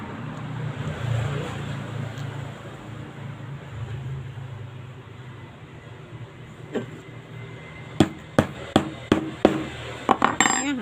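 After a stretch of low background rumble, a series of sharp hammer taps drives a metal jeans button into stiff fabric, about eight blows in an uneven rhythm, close and loud.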